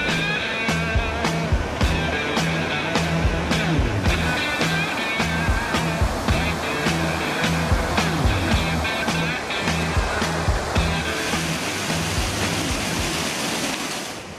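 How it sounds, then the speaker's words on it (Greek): The waterfall at Skra, where a river spills over rocks beside a swimming spot, gives off a loud, steady broadband roar of rushing water that stays close and unbroken throughout. "Ο πρώτος από τους καταράκτες."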